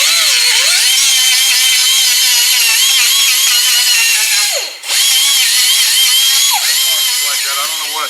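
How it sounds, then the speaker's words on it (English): Power grinder steadily grinding out soft, poorly mixed body filler on a 1933 Ford Coupe during collision repair, loud and continuous with a brief dip in pitch and load near the middle, no talking over it. "So what you got to do, you got to grind that out of there."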